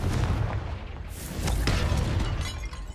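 A Confringo fire spell bursts in Hogwarts Legacy with a loud blast, followed by crackling, shattering debris and a second impact, all dense and close.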